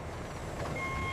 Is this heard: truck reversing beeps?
yes